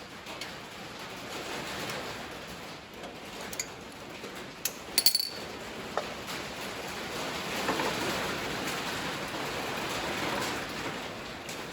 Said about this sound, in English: Sorry about all the noise, it's raining today.